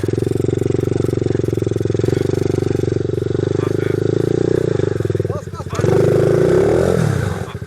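An enduro motorcycle engine revs hard and steadily as the rider accelerates, close and loud, dipping briefly before surging again at a higher pitch.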